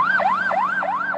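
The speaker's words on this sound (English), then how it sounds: "Before the ambulance siren blares" An ambulance siren blares loud and close, its wailing tone sweeping up and down in a steady repeating cycle of about three rises and falls, with no voices over it.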